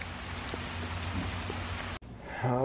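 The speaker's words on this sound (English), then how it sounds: "Even the pigs are hiding during the rain." Rain falling steadily on a pig farm, a continuous close hiss of drops on surfaces, cut off abruptly near the end by a louder, different sound.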